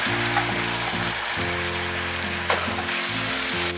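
Tomato puree fries in hot oil over high heat for chicken tikka masala, a continuous hissing sizzle under a steady low electrical hum, with one brief clatter midway and no talk.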